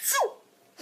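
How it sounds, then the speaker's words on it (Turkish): A single girl's sneeze, a quick sharp burst with a falling tone, close and clear, followed by brief quiet. "Kızlar hapşırınca."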